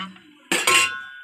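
Clinks and scrapes of a utensil against a pot as salted rice is stirred while cooking fried rice, a short burst of metallic contact after near silence.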